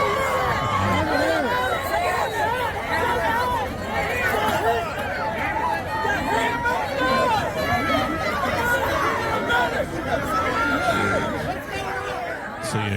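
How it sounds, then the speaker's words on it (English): A large outdoor crowd at a political rally produces dense, loud overlapping shouting and screaming voices throughout, a continuous roar of agitated people close by. "So you hear people screaming."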